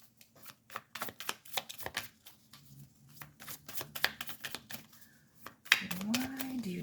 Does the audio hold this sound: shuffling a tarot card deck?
yes